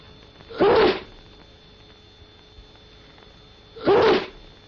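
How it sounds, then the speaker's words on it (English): Two loud, close human sneezes about three seconds apart, each a sharp burst over a quiet background, from a 1948 NHS respiratory hygiene film about handkerchief use. "Handkerchief, sneeze."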